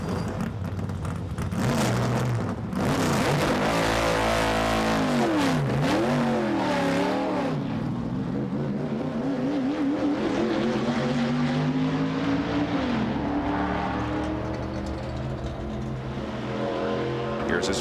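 A race car lapping Daytona in 1997 Hot Wheels Pro Racing coverage, its engine a continuous loud whine that rises and falls as it passes, with a commentator talking over it.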